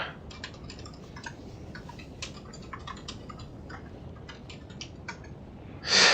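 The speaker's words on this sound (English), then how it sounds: "Let me type." Keys clack on a computer keyboard in quick irregular bursts with short pauses, close and fairly quiet, with a louder rustle or thump at the very end.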